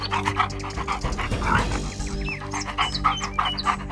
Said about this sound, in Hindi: मंत्री ने एक कुत्ते को बक्से से कोई चीज सूंघाई और उसके बाद कुत्ता आगे